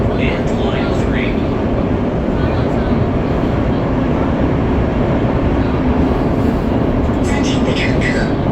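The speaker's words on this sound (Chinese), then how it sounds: "列车正在行经地铁海底区间" A Qingdao Metro Line 8 train bound for Qingdao North Railway Station runs through the undersea tunnel beneath Jiaozhou Bay, a loud, unbroken roar and rumble of wheels and air filling the whole stretch.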